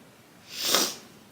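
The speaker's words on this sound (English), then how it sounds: "Sorry, I have allergies. Ignore my sniffling." A single sniffle from someone with allergies, a short breathy nasal snort swelling up and fading within about a second, close by and fairly quiet.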